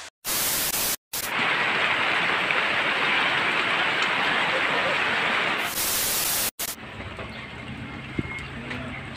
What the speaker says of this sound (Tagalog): inabutan lang kami ng malakas na ulan